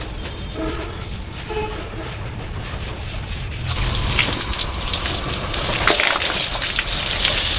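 Water gushes while household items and a filter are washed in a village home, starting as a softer trickle and then swelling into a loud, steady rushing spray partway through.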